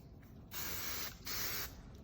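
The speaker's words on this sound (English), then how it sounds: "you can take any heat or humidity hairspray and just go around and spray all the curls and the braids" Hairspray hisses from a can in two short bursts of about half a second each, close and steady, with a quiet pause between them.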